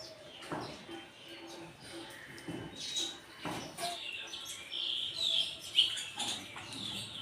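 Sparrows chirp in short, scattered bursts while feeding on a morning balcony alongside a squirrel. The calls are fairly faint over a soft background, with a few brighter tweets standing out.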